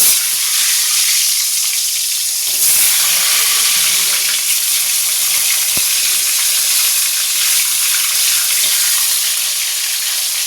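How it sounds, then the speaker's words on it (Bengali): Many pieces of eggplant fry in a pan, giving a loud, continuous close-up sizzle with crackling bursts and occasional stirring. "অনেকগুলো বেগুন ভাজছি"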